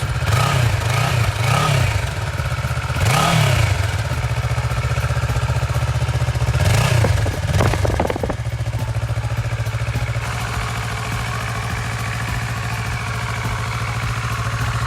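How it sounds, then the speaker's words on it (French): A Kawasaki ER6N motorcycle with its stock exhaust idles steadily with a low, fairly quiet exhaust note, interrupted by a few brief throttle revs that rise and fall. "Maintenant on va écouter ce magnifique bruit du pot d'origine ER6."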